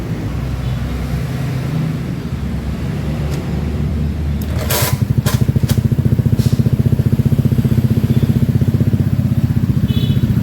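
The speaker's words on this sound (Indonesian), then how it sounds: "Jadi masih bisa menyala mesinnya." A Honda Beat FI motorcycle engine cranks briefly and then fires up about halfway through, settling into a loud, close, steady putter with some mechanical clatter. No one speaks.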